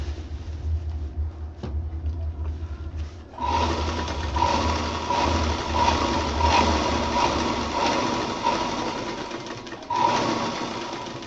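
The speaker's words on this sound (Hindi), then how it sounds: "अब ये जो दूसरा किनारा है, अब हम इसको सिलाई करेंगे।" A sewing machine stitches along the edge of a cushion cover, starting after a few seconds of low hum and then running steadily with a fast mechanical whir and a rhythmic ticking, close and fairly loud.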